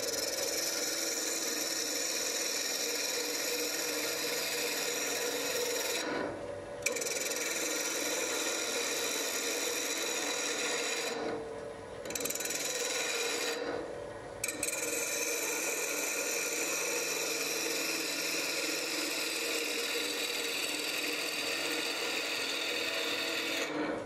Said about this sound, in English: this is stabilized burl, so it's threading much harder than regular unstabilized wood thread